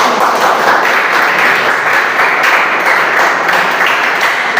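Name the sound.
class applause for a group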